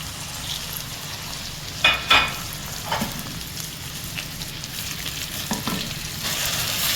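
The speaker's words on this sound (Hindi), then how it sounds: "अच्छे से मैंने इसे 4 मिनट टोटल फ्राई किया है मीडियम फ्लेम पर" Marinated chicken sizzles steadily in a hot pan over a medium flame, with a few sharp clinks of stirring breaking through the constant crackle.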